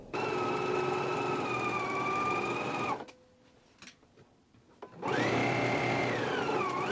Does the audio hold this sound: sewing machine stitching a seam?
yes